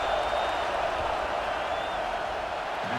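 A video-game football stadium crowd roars steadily and loudly before a field goal attempt, a dense, unbroken wash of cheering and noise with faint whistling tones drifting through it.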